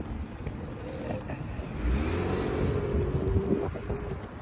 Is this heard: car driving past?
yes